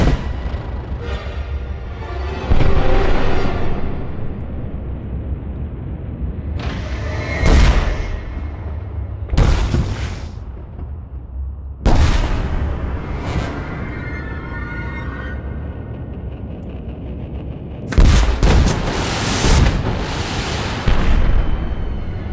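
Explosions vented through a REMBE Q-Rohr flameless venting device, heard as a series of loud, sharp booms spaced several seconds apart, each a sudden burst over a steady rumbling background, with no talking.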